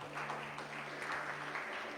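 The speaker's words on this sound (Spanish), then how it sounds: "Denle un aplauso al Señor." A church congregation applauds after a sermon, steady quiet clapping spread evenly through a short stretch, fairly distant with a low hum underneath.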